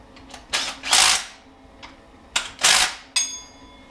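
Ratchet tightening bolts on the intake of an LS engine swapped into a 1988 Suburban, heard as a few quick bursts of rapid clicking in two groups, close and moderately loud, with no talk.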